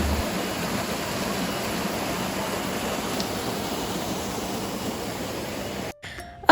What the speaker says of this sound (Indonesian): Tuh kalian denger deh suara airnya benar-benar menenangkan banget.